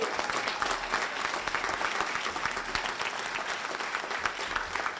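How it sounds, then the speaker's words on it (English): Audience applause at a Prince Hall Grand Lodge scholarships and awards event, steady dense clapping from a crowd throughout, moderately distant and even in loudness. "Give her a round of applause."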